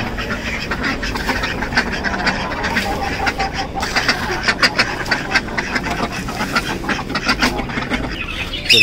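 Chickens cluck in a backyard coop alongside rabbits, a busy, steady chatter of bird calls with sharp repeated clucks and rustling throughout, fairly close and with no talk over it.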